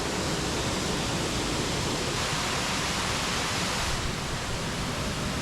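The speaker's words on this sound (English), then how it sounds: "water flowing underneath the ice." Rushing water flows steadily beneath ice, a dense, even roar that continues unbroken throughout.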